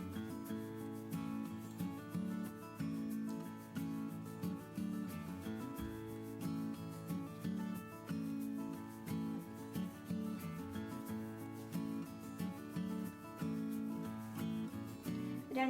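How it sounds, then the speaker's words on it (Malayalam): Eggless burger bun dough is kneaded by hand, giving a close, continuous rubbing and pressing sound in repeated rhythmic pushes, with no talking. "രണ്ട് കൈയും വെച്ച് നന്നായിട്ട് കുഴച്ചെടുക്കാം."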